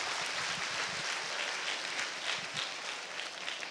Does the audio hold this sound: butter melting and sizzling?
no